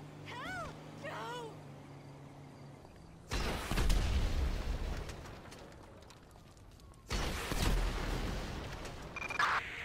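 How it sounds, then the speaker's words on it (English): Explosions in the video game GTA 5: two loud, booming blasts with long rumbling tails, several seconds apart, preceded by brief game chatter and a voice. "Citizens report an explosion on, um, Seaview Road"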